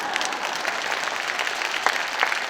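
An audience at a church revival meeting in Busan's BEXCO auditorium applauds, a dense, steady wash of many hands clapping at once, loud and even throughout.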